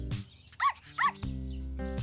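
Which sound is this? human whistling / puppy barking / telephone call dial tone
puppy barking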